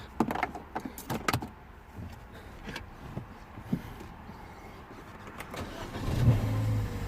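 Clicks and clunks from inside a BMW 116i with a no-crank, no-start fault, then near the end the engine briefly cranks and catches with a low rising hum; no voices.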